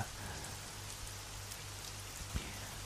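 Steady rain falls throughout, a soft continuous hiss of drops with a low constant hum beneath and one brief knock near the end; no voices.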